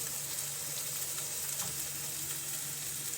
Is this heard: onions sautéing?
yes